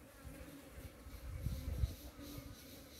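Flies and bees buzzing close by as they feed on fallen mangoes outdoors, a steady low insect drone with a couple of louder swells near the middle.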